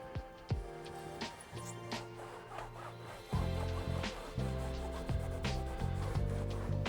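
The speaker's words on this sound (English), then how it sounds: "I'm using brake cleaner and a microfiber towel. I'm just going to clean off all the excess glue." A microfiber towel soaked in brake cleaner is rubbed firmly over carpet lining in a van conversion to wipe off excess glue. The rough scrubbing strokes come in repeated bursts, close by and fairly quiet.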